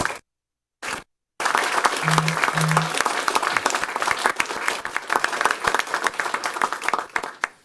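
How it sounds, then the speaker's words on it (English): Audience at a city council meeting breaks into applause after two brief silent gaps, a dense, fairly loud burst of many hands clapping that continues for several seconds before tapering into scattered claps. "Big round of applause, folks, for them."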